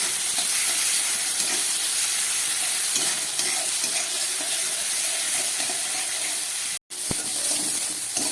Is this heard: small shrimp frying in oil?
yes